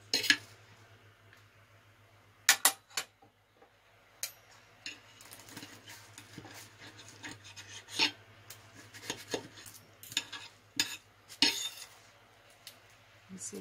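A knife cuts into baked spinach börek with a flaky pastry crust: scattered crisp crackles and rasping scrapes, some sharp clinks of the blade on a dish, close and fairly quiet over a low steady hum.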